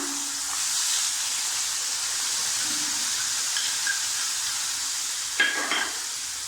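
Onion paste and green cardamom sizzle in hot mustard oil in a pan, a steady close frying hiss. A few light clinks and stirring scrapes come near the end.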